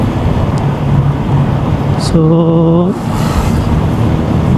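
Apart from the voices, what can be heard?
road traffic vehicles passing on Commonwealth Avenue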